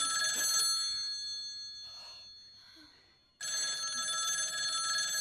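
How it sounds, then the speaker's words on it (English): A payphone rings in a horror movie with a loud electronic trill, cuts off into near silence, then starts ringing again. "Don't answer that payphone."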